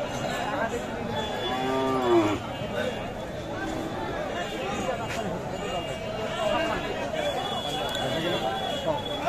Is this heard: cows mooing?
yes